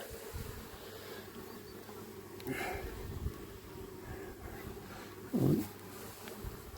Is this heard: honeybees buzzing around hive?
yes